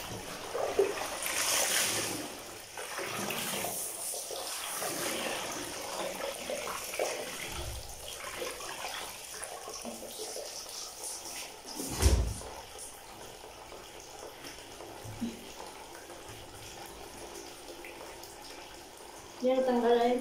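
Water drains and splashes out of a container in a steady, gurgling rush, with louder sloshes and a burst near the end, while a person talks intermittently in the background.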